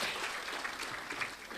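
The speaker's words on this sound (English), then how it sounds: "Please give a big round of applause." Applause for a speaker at a 40th birthday celebration: a steady, dense clatter of many hands clapping, moderately loud and brief, with no voices over it.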